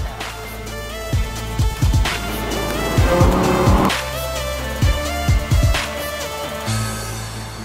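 A Lamborghini sports car drives with loud, throaty engine revs that rise and fall in repeated bursts, close by, with a brief tire squeal, over a steady background.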